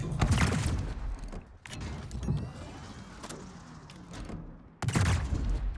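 Warship main guns firing in World of Warships during a collab event: loud booming salvos at the start and again near the end, with quieter rumbling mechanical noise between them and no talk.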